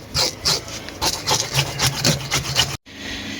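A silver carp is scaled outdoors in a rural setting, with close, rhythmic scraping and rasping strokes repeating quickly for a few seconds before stopping abruptly.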